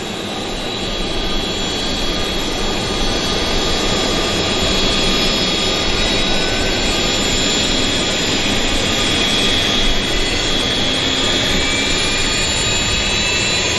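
An Avro RJ Avroliner spools up its jet engines at Vancouver Airport about fifty feet away, a loud, steady whine with high tonal pitches rising over a constant rumbling roar.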